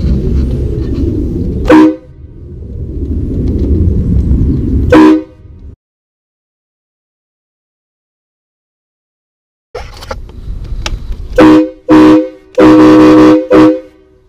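Train horns fitted to a truck and fed at about 40 psi give very loud, close blasts: two long sustained honks, a few seconds of silence, then a run of short, choppy bursts.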